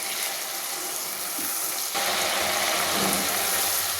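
Spice paste with chilli powder and a splash of water sautéing in a pan for a vegetable curry, a constant loud hiss and sizzle that grows brighter midway, with no talk.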